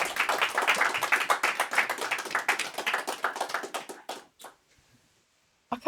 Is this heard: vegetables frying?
no